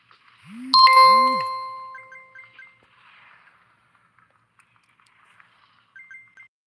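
A phone ringing in short repeated electronic tone bursts, quiet and at a distance, after a louder opening chime. No talk over it.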